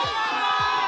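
An arena crowd at an MPL Philippines Season 15 esports match cheers loudly and continuously, a dense wall of voices with rhythmic chant-like swells.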